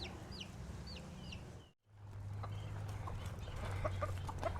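Young chickens in a brooder give a few soft, high chirps and clucks at first, then a steady low hum takes over after a brief silence, with faint scattered peeps continuing.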